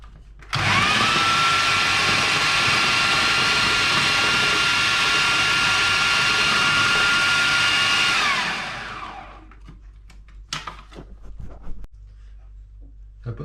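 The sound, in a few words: electric chopper chopping coriander and spinach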